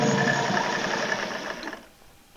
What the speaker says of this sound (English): you just keep turning it until you get those lines sewn.